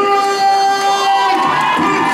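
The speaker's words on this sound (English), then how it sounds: "Make some noise and encourage him to the ring." A crowd at a fight event cheers, whistles and shouts loudly and continuously as a fighter is called to the ring, with high-pitched yells rising out of the steady roar.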